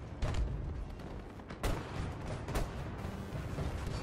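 Grenade launcher firing in the Battlefield 2042 video game: several sharp booming shots, roughly one every second, over a constant loud rumble of battle noise, no talk.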